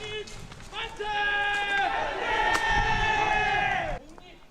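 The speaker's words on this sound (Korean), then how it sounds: "이곳 교정에서 만세 함성이 울려 퍼집니다" Students shout "manse" cheers together in the schoolyard of Gongju Yeongmyeong School, several loud massed calls rising and sustained for a few seconds before cutting off, a narrator's voice heard briefly around them.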